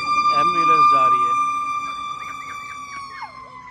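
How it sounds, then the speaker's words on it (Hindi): An ambulance siren wails loudly as it passes outside, its steady tone gliding gradually downward with a yelping warble near the end, over faint background noise. "सॉरी यार, एम्बुलेंस जा रही है"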